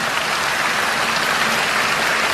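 A congregation at a healing service clapping hands, a dense, continuous wash of applause that holds at a steady level throughout.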